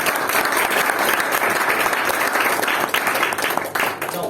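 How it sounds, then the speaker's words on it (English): A room of members at a Brunei Toastmasters club meeting gives a loud, sustained round of applause with dense, even clapping. It wavers slightly toward the end. "So can you please give him a round of applause for SA4."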